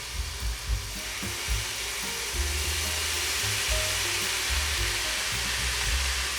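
Ingredients for Jordanian mansaf caramelize in a hot pan with a constant loud sizzle, while scraping and stirring knocks sound throughout the first half.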